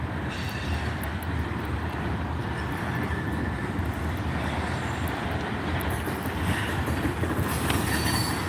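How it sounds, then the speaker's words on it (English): A train rolls past at close range beside a boardwalk, a steady, loud rumble of wheels on rail with faint metallic squeals near the end, continuous throughout with no talking. "And there's a train up close and personal."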